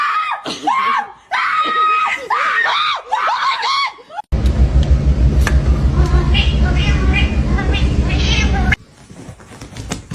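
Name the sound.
cat meowing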